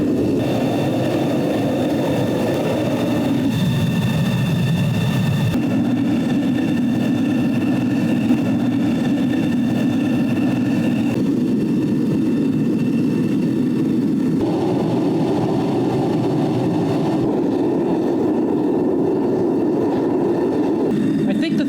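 A Vevor melting furnace's gas burner roars continuously and loud, a dense low rumble with steady hissing whose pitch shifts slightly in stages as the gas flow is turned up.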